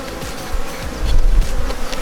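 Buckfast cross Welsh Black honey bees on a hive frame, a dense close-up buzzing drone of many insects that swells slightly midway, with no speech.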